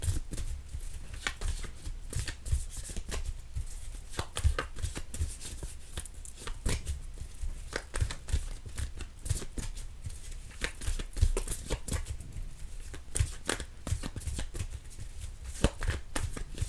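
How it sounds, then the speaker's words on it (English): Soft, steady riffling and tapping of tarot cards being shuffled, continuing quietly with no talking. "let me shuffle again."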